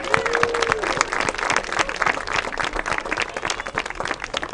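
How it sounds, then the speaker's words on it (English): Crowd applause and cheering at a high school girls' soccer senior celebration day for Bedford and Keene seniors, a dense sustained wash of clapping from a sizable outdoor crowd, steady and loud throughout. "And let's have one more round of applause for all of our Keene and Bedford seniors."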